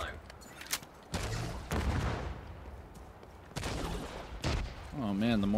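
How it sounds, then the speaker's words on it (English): Mortar fire in The Division 2 video game, with several loud booming blasts at irregular intervals over a battle background, and a voice cutting in at the end. "Oh, man, the mortars. I forgot about the mortars."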